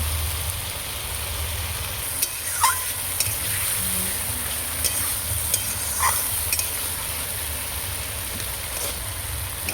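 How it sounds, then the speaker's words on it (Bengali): Pomfret fish with cauliflower, potato and spices sautéing in a pan, a steady broadband sizzle throughout with occasional stirring scrapes and clinks, close and moderately loud, no talking. "লাল লাল করে ভালো করে কষিয়ে নেব"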